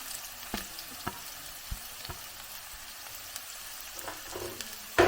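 Finely chopped onions, four medium ones, frying in coconut oil, a faint, low sizzle with sparse stirring taps and clicks and a sharper burst at the very end.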